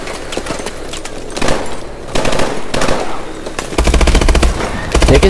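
Rapid machine-gun bursts and scattered gunshots from the video game Call of Duty Advanced Warfare, loud and close, repeating in clusters across the whole stretch.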